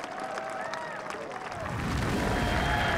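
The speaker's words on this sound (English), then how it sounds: "Tiger Woods hearing the respect from the crowd as he makes his way up" A large golf gallery at the 2005 Ford Championship at Doral applauds and cheers Tiger Woods, a steady wash of distant clapping that swells louder partway through, with a murmur of crowd noise underneath.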